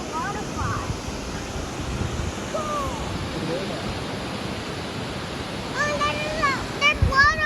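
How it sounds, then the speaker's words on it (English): A waterfall in North Idaho rushes as a broad, steady roar, loud and continuous, while people talk intermittently over it. "Oh, there's waterfall here."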